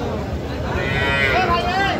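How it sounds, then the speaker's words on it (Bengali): Young cross-breed calves low and moo at a busy cattle market, a close, drawn-out call rising over a murmur of background crowd noise. "এইদিকে শুধু বাছুর আর বাছুর"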